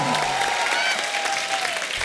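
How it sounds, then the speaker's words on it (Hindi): Enthusiastic studio audience applause on a comedy show, dense clapping sustained across the moment with a faint whistle-like tone drifting through it. "एक बार जोरदार तालियां अनुपम जी के लिए और ईशा के लिए"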